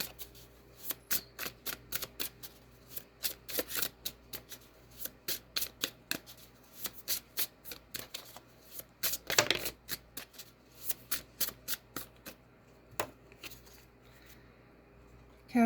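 Tarot cards shuffled by hand over and over in a long run of crisp riffling bursts, each a quick flutter of snapping card edges, near and clear against a quiet room.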